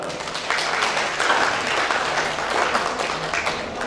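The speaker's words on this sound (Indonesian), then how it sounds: "Tepuk tangan untuk kita semua." Audience at a motivational speaking session clapping together for a few seconds, a steady wash of applause over a low background hum.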